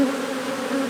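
Honey bees drone steadily in a close, continuous hum while a hive frame of brood is inspected in spring, with no talking.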